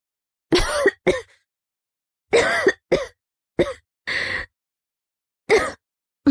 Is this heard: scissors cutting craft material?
no